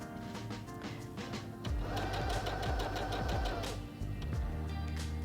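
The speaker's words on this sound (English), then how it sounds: "If I turn that off, now it will stop in the up position when I stop sewing." A Heavy Duty HD6805C sewing machine runs in a steady, fast mechanical whir while stitching fabric, nearby and fairly loud, with a brief pause and restart near the end.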